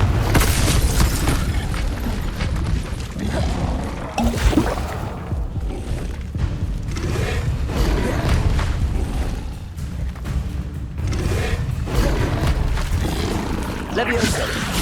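Confringo blasting spell explosions in Hogwarts Legacy, booming bursts over a continuous rumbling game soundscape with shouted spell incantations throughout.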